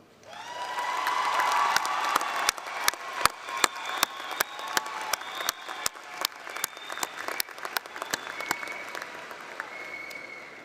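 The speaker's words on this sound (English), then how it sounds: "Graduates, join me in a round of applause for everyone who got you to this point." Audience at a community college graduation ceremony applauding, a sustained wash of many hands clapping with sharp individual claps standing out, building quickly and continuing steadily in a large hall.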